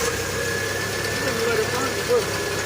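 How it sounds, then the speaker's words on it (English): A 1999 Jeep TJ engine idling steadily, a continuous loud mid-pitched rumble with slight knocking texture throughout. "I'm gonna start the engine."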